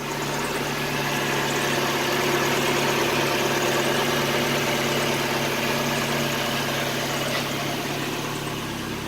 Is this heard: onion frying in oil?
no